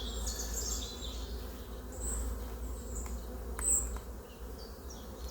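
Honeybees and many drones hum and buzz around an open hive, a dense, steady drone close by with occasional louder passes of individual insects.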